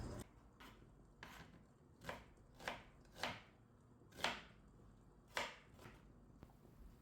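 An onion is cut into cubes on a board, each knife stroke landing as a crisp thud, about eight of them at an uneven pace against a quiet background.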